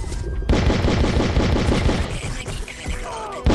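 Rapid bursts of automatic gunfire in the video game Outcast rattle loudly and continuously, with a brief pause near the start and sharp single shots toward the end.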